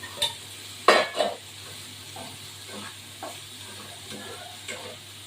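Food frying in a pan while being stirred, giving a few sharp utensil clinks and scrapes over a faint, steady sizzle, loudest near the start and then settling into softer intermittent stirring.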